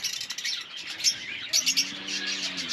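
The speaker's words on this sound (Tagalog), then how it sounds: "Yung mga ibon natin dito, oh." Several birds chirping and tweeting in short high bursts, with a lower cooing call near the end, fairly quiet and with no talking.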